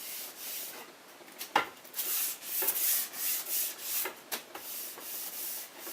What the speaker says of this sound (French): je vais passer une petite guenille pour enlever la poussière en surface